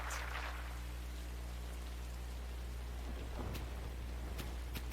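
Steady rain falls in the Hot Shots Golf video game, a continuous even hiss with a low hum beneath and a few faint ticks near the end.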